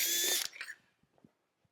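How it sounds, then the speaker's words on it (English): Power drill with a 1/4-inch bit widening a hole in a metal horseshoe hospital plate: a loud high whine for under half a second, then winding down into a few faint clicks and taps. "I have the 1/4-inch drill bit here."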